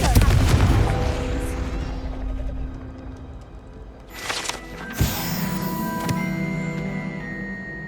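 A Confringo blasting curse in Hogwarts Legacy on PlayStation 5 lets off a loud, booming burst followed by a decaying rumble, then a couple of sharper cracking impacts and lingering magical shimmer.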